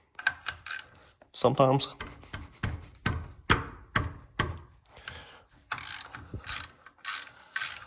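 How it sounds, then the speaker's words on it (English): A small 3/8-inch drive ratchet clicks in rapid bursts while loosening a gear oil fill plug on a Ram driveline, close and loud, with brief speech between the bursts. "So I'm gonna crack this open and we'll see if there's any in it. Little 3/8 drive ratchets, what fits in it"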